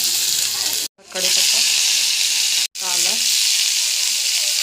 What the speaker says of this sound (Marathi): आपलं आता तेल गरम झालं की आपण त्यामध्ये थोडीशी मोहरी की थोडंसं जिरं जिरे थोडेसे भाजले की आपल्याला टाकायचं आहे लसूण